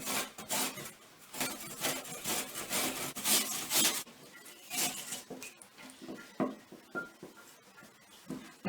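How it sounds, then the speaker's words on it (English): An apple rubbed against a hand grater in a kitchen, being prepared alongside chopped spring onions for a rabbit dish: steady rasping scrapes in quick repeated strokes, loud at first, then thinning into shorter, sparser scrapes with no talk. "I'm also going to grate an apple"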